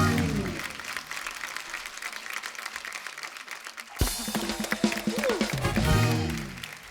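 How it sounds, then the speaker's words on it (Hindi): A studio audience at a Hindi comedy show bursts into loud applause after a quieter opening stretch, and the clapping stays dense to the end. "जोरदार तालियां।"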